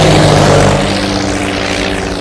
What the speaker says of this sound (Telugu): ఫస్ట్ టైం ప్రైవేట్ ఫ్లైట్ ఎక్కినందుకు చాలా హ్యాపీగా ఉందిరా.